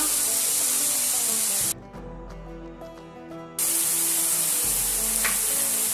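Shallots sizzling in a pan alongside rabbit liver produce a loud, steady frying hiss, which drops away abruptly for about two seconds to quieter clinking and then returns at full strength.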